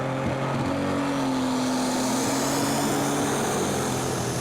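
A Ford 9600-based pulling tractor called Rabbit Gone Mad roars at a European tractor pulling championship in Brande, Denmark, a loud, steady, high-revving engine drone with a rising tone, heard from a distance across the open track.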